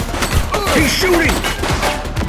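Gunfire during a police shootout in the game The Precinct, a dense run of rapid loud shots and impacts throughout, mixed with sirens and other chaotic street sounds.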